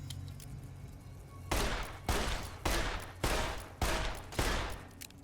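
Gunfire while shooting scorpions in Fallout New Vegas, pistols only: six evenly spaced loud blasts, each with a short decaying tail, over a quiet game background.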